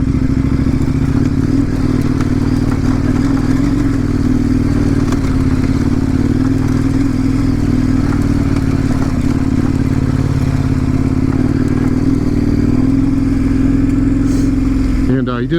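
A KTM 1090 Adventure R motorcycle rides in first gear with a loud, steady engine drone and wind rumble that hold throughout, and a rider talks over it.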